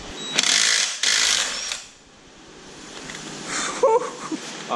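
A socket wrench ratchets in two quick bursts of clicking while working on a 2019 Yamaha R6 motorcycle during a chain and sprocket install, followed by quieter handling noise with no one speaking.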